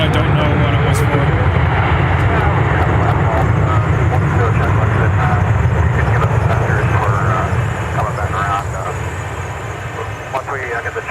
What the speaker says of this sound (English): There's a go around. Appears to be a 757 as well.